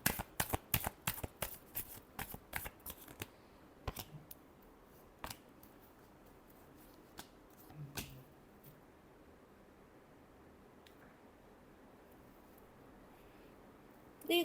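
Tarot cards being shuffled by hand, a quick burst of crisp riffling flicks at the start that thins into sparse, softer card snaps over a quiet background, with no voices.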